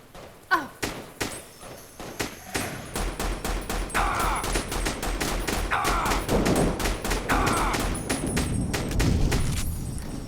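Rapid gunfire in Fallout New Vegas near the Nipton Road pit stop, repeated close, punchy shots in quick bursts with heavy thuds and booms that build into a sustained barrage.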